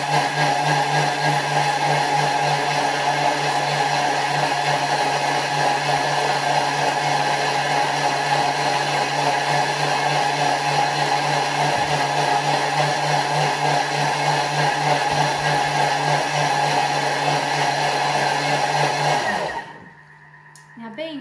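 A Thermomix spins water at top speed 10 with a loud, steady high-speed whir that holds for nearly twenty seconds, then cuts off abruptly.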